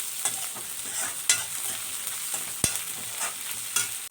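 Garlic, ginger and tomato fry for a rohu fish curry, a steady close sizzle with scattered sharp scrapes and clinks of a spatula stirring the pan, no voices.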